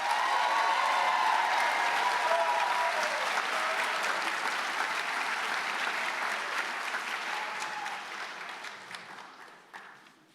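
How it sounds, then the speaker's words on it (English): Loud, sustained applause from a high school honors convocation audience for the senior class of 2024, a thick, even roar of many hands that holds for several seconds, then gradually thins and fades out. "Please, one more time, give them a round of applause."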